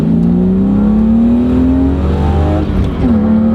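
An E36 BMW M3 engine with an aFe aftermarket intake roars close up as it accelerates hard, the pitch rising steadily, then dipping briefly at a gear change before climbing again.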